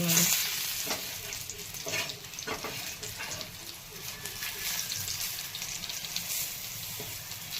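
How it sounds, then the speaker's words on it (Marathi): Taro leaf rolls (alu vadi) shallow fry in a pan while being turned to brown both sides, a constant close sizzle with occasional scraping and stirring sounds, with no speech. "दोन्ही साईडने छान अशा भाजून घ्यायच्या"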